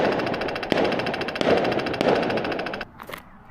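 Rapid crackling bursts rattle continuously, punctuated by a few sharper bangs, then the noise drops away to scattered faint pops.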